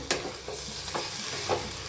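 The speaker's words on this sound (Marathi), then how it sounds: "तर एकदा मिक्स करून घेऊया" Potato vegetable curry with coriander and mint stirred in a pan: four scraping spoon strokes, evenly spaced, over a steady soft sizzle, close and fairly quiet.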